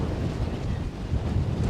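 Steady, low buffeting wind rumbles against the microphone on a Scottish coastal headland at St Abb's Head, a constant broadband roar with no voices.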